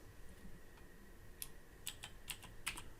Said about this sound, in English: Type in our initials.